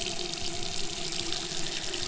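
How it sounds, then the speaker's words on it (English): A sink tap runs steadily, a continuous close hiss and splash of water filling the basin with no pauses or voices. "We're gonna run the sink,"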